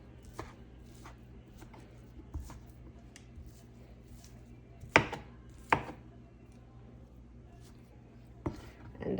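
A knife chops food for a corned beef dish on a board in quiet, irregular strokes, with a few sharper, louder cuts standing out against a faint background.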